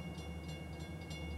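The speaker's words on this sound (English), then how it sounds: "We just heard a train" A distant train rumbles past, a faint, steady low drone with soft rhythmic clatter, heard alone in a quiet outdoor setting in Fremont, California.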